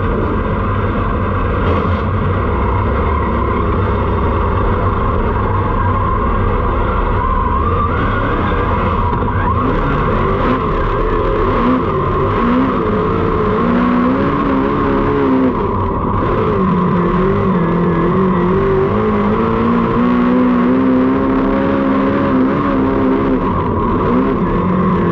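A race car on a qualifying lap at Wheatland during a night meeting, its engine a continuous loud howl that rises and falls through corners and straights for the whole lap.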